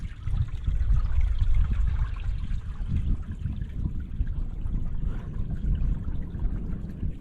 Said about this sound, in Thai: ถ้าได้ยินเสียงน้ำไหลก็จะรู้สึกผ่อนคลายนะครับ